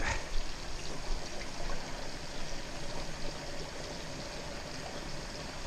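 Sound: water being poured into a pressure-test vessel

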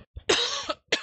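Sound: cough

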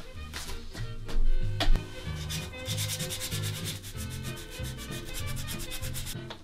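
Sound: sanding an antique wooden captain's chair

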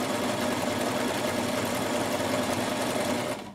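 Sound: Bernette Rome 3 sewing machine stitching triple zigzag

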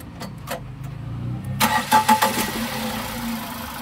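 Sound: car engine starting

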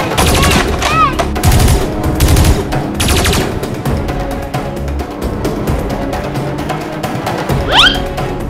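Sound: Nerf blasters firing in a toy Nerf war

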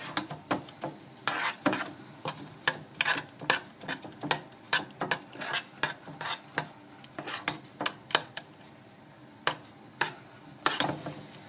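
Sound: cooking and stirring instant porridge

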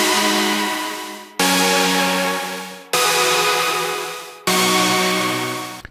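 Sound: future bass supersaw synth chord progression made in Serum

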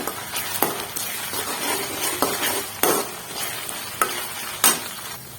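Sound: ginger garlic paste frying and stirring in pan

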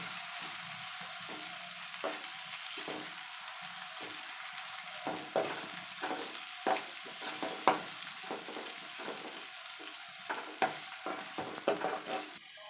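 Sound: tomatoes with turmeric cooking and being stirred in pan

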